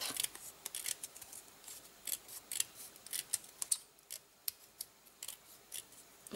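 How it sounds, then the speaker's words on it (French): Scissors cut a narrow strip of paper for a craft project, with a steady run of crisp, close snips repeating every half second or so, quiet and alone. "Donc pour cela je recoupe une petite bande."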